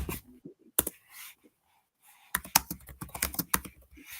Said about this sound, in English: I hear her typing every note that she's typing